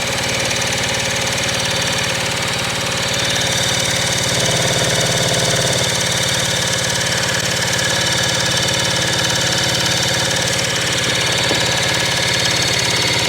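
Motorcycle engine running steadily for the whole stretch, a loud, continuous mid-pitched drone with a slightly uneven, knocking idle and no talk over it.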